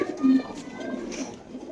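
Soft coos from racing pigeons for sale come from close by, with low murmuring voices in the background.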